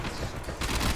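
Rapid gunfire in the video game Warframe, a dense continuous burst of shots that grows louder and closer over the short stretch, with no talking.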